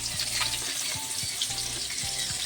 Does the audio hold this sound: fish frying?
yes